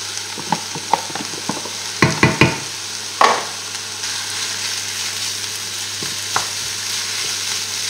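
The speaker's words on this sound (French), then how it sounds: "Là, on ajoute notre viande hachée." Minced meat hitting a hot pan for a bolognese sauce, with a few sharp clatters and scrapes of stirring over a steady close frying hiss, no talking.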